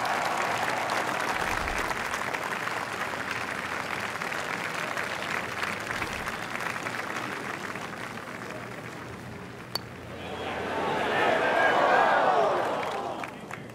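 Crowd applause and cheering at a golf tournament after a gutsy shot, a broad steady roar that swells again near the end.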